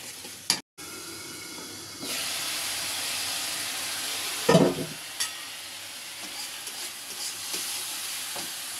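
Spice masala sizzles and is stirred in a pan for a Bengali fish curry, a low steady frying hiss with a few sharper scraping bursts near the middle, faint and close, no talk.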